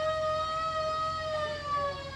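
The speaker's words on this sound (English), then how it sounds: "And there goes the siren that still works." Siren of a 1926 hook and ladder fire truck at an Independence Day parade, a sustained wailing tone slowly sliding in pitch, close and fairly loud, with no talk over it.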